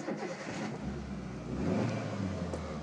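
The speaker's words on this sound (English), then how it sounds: "Now I can start my engine" A car engine starting through a keypad coded lock ignition system, a low mid-pitched engine note that catches and swells into a brief rev, heard close with no speech.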